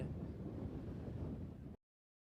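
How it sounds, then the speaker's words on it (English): Strong wind buffets the microphone at an outdoor high school baseball game between St. Joe's and St. Mary's, a low steady rumbling roar that runs evenly before cutting off abruptly. "It's so windy we're being blown away."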